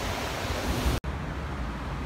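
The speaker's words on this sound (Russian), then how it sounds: "Вот так выглядит океан в 7 утра в Майами." Ocean surf in Miami at 7 a.m., a steady loud wash of breaking waves with wind rumble, broken by one brief dropout midway.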